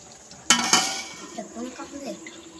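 Metal lid lifted from a pot of simmering chicken curry, two sharp clanks close together followed by softer clinks and someone speaking briefly.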